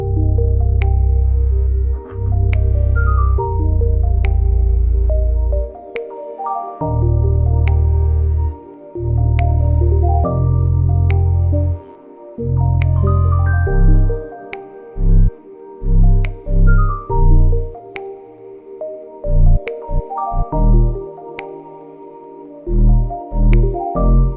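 A hip-hop beat plays with deep booming bass notes and crisp, ticking hi-hats running steadily on top, with several breaks and stuttering rolls.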